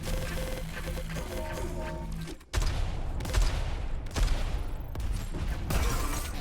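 Rockets blast repeatedly in a Quake arena duel, sharp explosive bursts cutting through a constant layer of game noise, with a few hard impacts spaced roughly a second apart.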